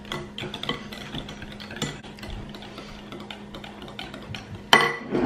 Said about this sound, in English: I'm whisking them together properly